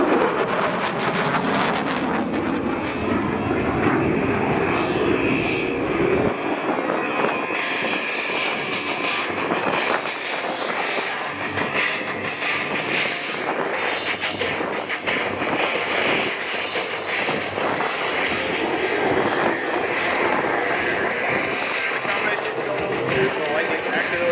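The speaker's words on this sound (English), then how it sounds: "From the left, the F-35 high-speed pass." An F-35 fighter jet makes a high-speed pass at the Jones Beach airshow. Its loud, continuous roar fills the whole stretch, swelling and churning, with faint crowd or announcer sound beneath.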